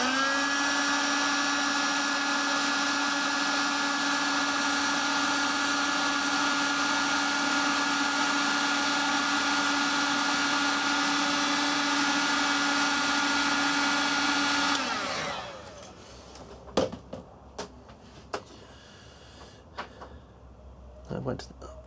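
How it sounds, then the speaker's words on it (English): A heat gun blows hot air onto a thermocouple inside a home-built SMD reflow oven, a loud steady whirring roar with a constant hum for about fifteen seconds, then cutting off to quiet with a few scattered knocks. "I'll get the heat gun and I'll heat up the thermocouple and see if we can get that temperature to rise"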